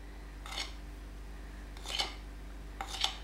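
Royal icing mixture is scooped from one bowl into another, giving three brief scraping clinks of utensil against bowl, spaced apart, close and fairly quiet over a low steady hum.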